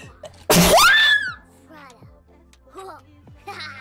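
A woman gives one sudden, loud sneeze with a rising voiced squeal, followed by quieter background sounds and a voice.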